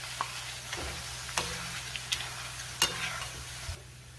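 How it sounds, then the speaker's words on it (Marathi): Corn poha sizzles as small batches fry in hot oil, a quiet steady hiss broken by a few soft stirring clicks and taps. "थोडे थोडे हे पोहे टाकायचे तेलामध्ये आणि छान तळून घ्यायचे"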